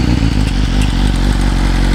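BMW S1000RR inline-four superbike with a full Akrapovic exhaust system in Race Pro mode, revving loud and close for a couple of seconds with a deep, rough engine note and crackling pops.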